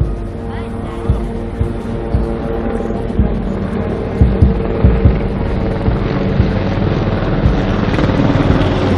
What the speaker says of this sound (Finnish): Siellä tulee ilmavoimien helikoptereina, kevyt helikopteri sekä 2 raskasta kuljetushelikopteria